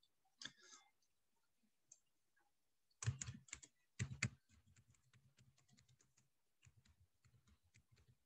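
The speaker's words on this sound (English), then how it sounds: "So all I got to do is type." Typing on a computer keyboard while adding bulleted text in PowerPoint, with quiet scattered key clicks, two denser bursts of rapid keystrokes, then a lighter irregular patter of taps, all close and fairly soft.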